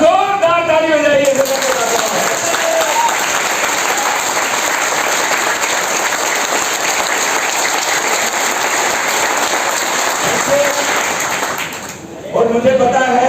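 Sustained audience applause from a crowd at a technical training event in Faridabad, loud and dense, rising at once and holding steady for about ten seconds before fading, with voices heard at the start and end.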